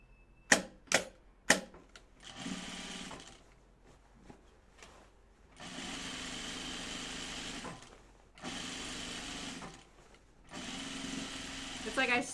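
A sewing machine stitches pajama bottoms in steady whirring runs of a few seconds each, with pauses between them, preceded by a few sharp clicks and handling sounds up close.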